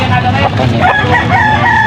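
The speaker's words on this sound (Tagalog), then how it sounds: "Guys, manok." Roosters crow over a busy background of clucking fowl and murmuring voices, loud and close in a crowded outdoor setting in Angeles, Pampanga, Philippines.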